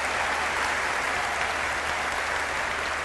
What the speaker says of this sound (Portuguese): E um aplauso especial para Equador